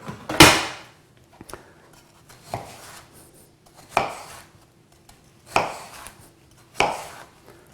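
Knife strokes slicing through watermelon for juicing, five distinct crunchy cuts spaced about a second apart, close and clear with quiet pauses between each slice.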